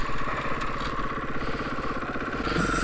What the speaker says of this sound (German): So, dann werde ich jetzt mal einen Willi machen.